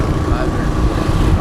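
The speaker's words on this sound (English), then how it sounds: "I know y'all can hear the wind whistling through my helmet visor" Wind rushing and whistling through a motorcycle helmet visor while riding, a loud, close, continuous roar with a low rumble beneath it, steady for the whole stretch.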